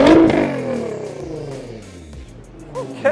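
A V6 car engine revs hard to about 6,000 RPM, a loud rising roar at the start that falls away as the revs drop and settles to a lower rumble, with a couple of small blips near the end.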